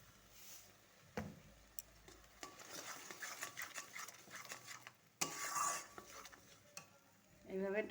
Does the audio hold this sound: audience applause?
no